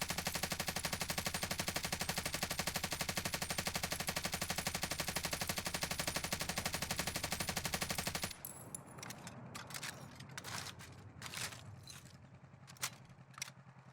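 In Warzone, a machine gun with a 120-round magazine fires one loud, unbroken rapid burst for about eight seconds. It then cuts off, leaving sparse clicks and mechanical clatter.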